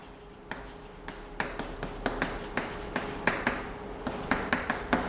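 Chalk or marker writing on a classroom board, a series of sharp taps and short strokes in an irregular rhythm, fairly close and clear with no talking.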